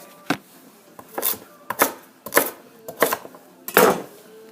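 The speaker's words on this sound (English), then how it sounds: "So you just go whack, whack, whack, chop them up" Knife chopping unpeeled carrots on a board, about seven sharp distinct whacks at a roughly even pace, close and clear with quiet gaps between, no talk.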